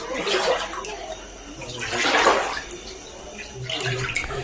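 Rushing, splashing surges of flood water from a burst feeder water tank of the Kerala Water Authority in Thammanam, Kochi, rising in three loud swells, with a faint voice underneath.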